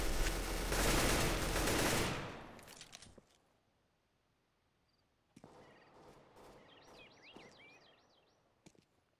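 Counter-Strike: Global Offensive gunfire, Operation Wildfire: a loud, dense burst of rapid shots for about two seconds, then near silence, then scattered sharper shots and a high whistling game effect.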